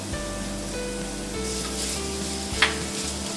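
Chopped garlic hits hot oil in a pan over medium gas, a steady close sizzle and crackle with a brief sharp clink of a utensil partway through.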